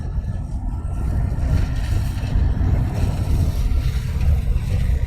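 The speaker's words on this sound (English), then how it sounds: "And just getting some gusty wind now." Gusty wind roars across an open airfield at Luton Airport, a loud, continuous low buffeting rumble on the microphone that swells and eases without breaks.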